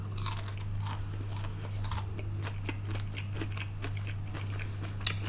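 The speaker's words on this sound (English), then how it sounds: "Very, very, very, very crunchy. Maybe it's the way they make the chicken" Repeated crisp crunching bites of fried chicken, close and steady, over a low constant hum with no talking.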